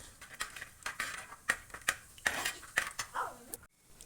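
Metal spoon scraping and clinking in a cooking pan while whole fennel seeds, cinnamon, cloves and cardamom are stirred for a Kerala-style chicken curry, a dozen or so quick, close taps and scrapes in uneven rhythm, fairly quiet, with no talking.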